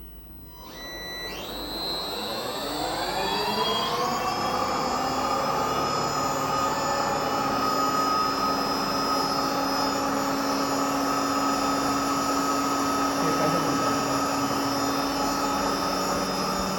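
An electric garbage truck fitted with a Rawsuns AMT EV drive system pulls away, its motor whine climbing in pitch over the first few seconds, then settling into a steady, loud electric hum with a constant high tone.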